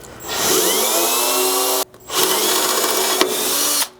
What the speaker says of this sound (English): So with our hole center punched, we'll go ahead and drill our first pilot here.